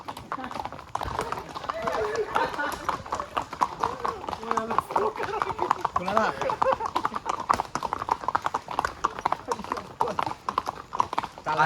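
Horse hooves clip-clop steadily on the trail to Matheran, a close, continuous rhythmic clatter running the whole way under lively conversation between riders.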